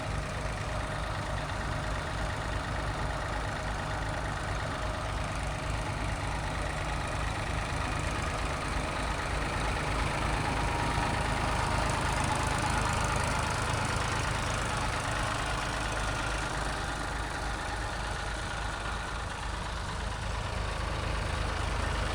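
Large motors run at a construction site near the High Court building in Amaravati, a steady, unbroken low rumble that keeps going at an even level for the whole stretch.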